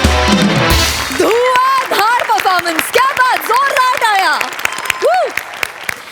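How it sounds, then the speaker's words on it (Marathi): A studio audience at a Marathi comedy show claps briefly at the start, and then loud cheering and whooping voices take over. "जोरदार टाळ्या"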